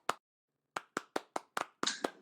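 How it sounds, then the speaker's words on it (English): Sparse applause from a small audience at an emergency-response technology talk: one isolated clap, a pause, then a run of about eight separate, fairly close claps at a slow, uneven rhythm, with no voices. "thanks for those of you in the audience who are clapping"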